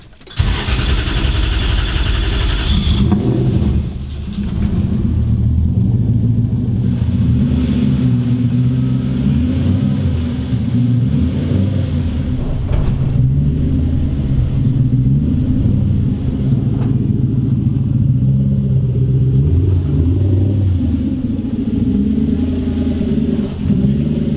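A V8 truck engine starts up with a loud roar, then rumbles steadily nearby, its deep idle rising and falling as it pulls away.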